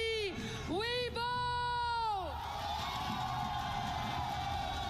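Crowd at an Overwatch esports championship cheering and whooping at a live arena event. Loud sweeping voice-like swells rise and fall over the first half before settling into a sustained roar of the audience.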